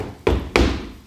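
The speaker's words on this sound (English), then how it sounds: "Then I heard a knock at the door." Two firm knocks sound on a door during a middle school stage play, spaced about a third of a second apart, close and solid with a short wooden thud.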